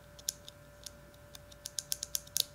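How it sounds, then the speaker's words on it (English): A series of small, sharp clicks from the switch of a Pyle PDMIK1 microphone, sparse at first then quicker and closer together, over a faint steady hum. "Still makes a clicking sound."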